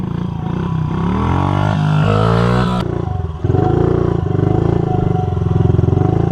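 A Honda CRF50 stunt bike's small single-cylinder engine runs loud and close, its pitch rising and falling through revs with a brief dip before settling into a steady, throbbing run.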